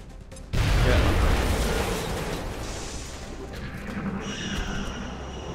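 A grenade detonates in XCOM: Enemy Unknown, one sudden, loud, booming blast with heavy low rumble that slowly decays into a lingering debris and ambient tail over several seconds.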